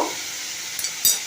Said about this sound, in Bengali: আলু খোসাটা দেওয়ার পরে একটু নাড়বো